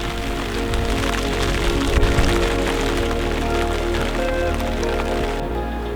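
Steady rain falls on tarp-covered thatch at an old cottage, a dense, continuous patter that stays fairly loud and even throughout with no talking.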